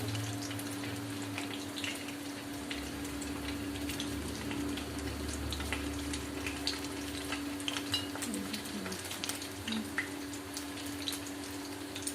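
Chilli chicken frying in hot oil in a pan, a steady close sizzle with scattered crackles and pops that carries on evenly throughout.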